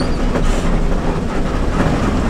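A train rumbles past with a steady rolling roar and faint rhythmic clatter of wheels on rails, close and continuous, heard from a bus near Lake Singkarak, Solok, Indonesia.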